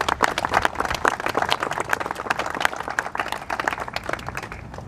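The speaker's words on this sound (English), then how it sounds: "Give him a round of applause, too." Clapping for the Director of Public Works at a county gathering, an uneven burst of handclaps from a modest crowd, moderately loud and close, continuing briefly without talk.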